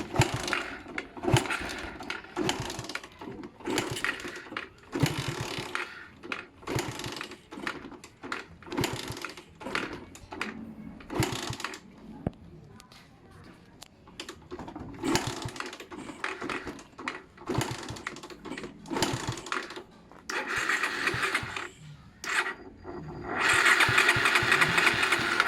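Raider 150 motorcycle fitted with a Keihin 28mm carburetor, cranked repeatedly in quick mechanical bursts before the engine catches and runs at a louder steady idle near the end, close by.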